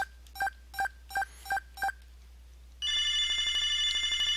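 Touch-tone dialing from the Sega CD game Snatcher: five evenly spaced DTMF beeps for a number of repeated threes, a short pause, then a continuous electronic ringing tone pulsing steadily.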